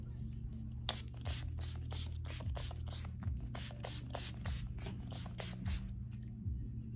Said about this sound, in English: we're gonna use this matte finish spray